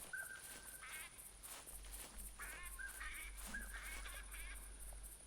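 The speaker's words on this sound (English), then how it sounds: "there are ducks flying about" Ducks in the hunting video game theHunter: Classic give repeated quacking calls over a bayou, several honking cries at moderate distance against a steady low hum and faint background noise.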